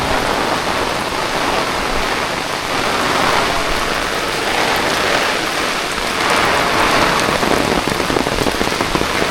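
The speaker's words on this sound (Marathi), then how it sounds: "पाऊस बघा किती जोरात आला आहे" Heavy monsoon rain pours down outdoors in Konkan, a loud, dense, unbroken roar of drops hitting surfaces all around, swelling slightly toward the end.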